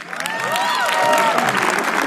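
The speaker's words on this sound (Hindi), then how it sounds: "अजीम बनात वाले के लिए तालियां प्लीज" An audience at a comedy roast claps loudly and continuously, a thick wash of applause with a few cheers and whistles threaded through it.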